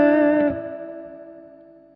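A single guitar chord through a Boss GT-100 ambience reverb rings out, then decays smoothly into a soft, spacious reverb tail that fades over about two seconds.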